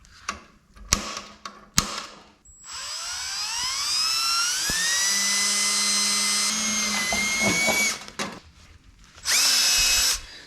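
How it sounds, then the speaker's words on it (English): A spot weld drill bores out spot welds in the steel body of a 1965 Dodge Coronet 500, a loud rising whine held for several seconds after a few sharp knocks, followed by a second short burst of drilling. "They actually work. Spot weld drill."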